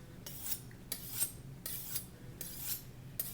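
Knife drawn along a ceramic sharpening rod outdoors: five light, evenly spaced rasping strokes, each a bright scraping swipe, close and fairly quiet with no talk.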